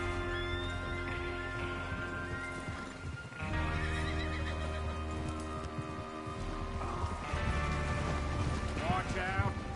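Horses whinnying and hooves clip-clopping in the video game Red Dead Redemption 2, set against a steady in-game music bed, with repeated neighs rising over the hoofbeats through the scene.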